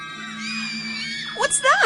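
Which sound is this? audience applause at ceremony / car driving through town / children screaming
children screaming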